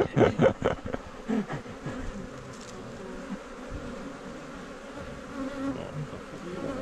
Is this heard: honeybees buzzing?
yes